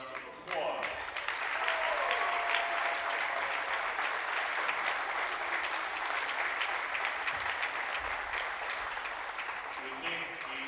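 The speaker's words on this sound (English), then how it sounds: "let's give these players and their parents a round of applause" A crowd in a high school gym applauds varsity boys basketball players and their parents, steady, dense clapping rising after a moment and holding loud throughout, with a few voices and cheers mixed in.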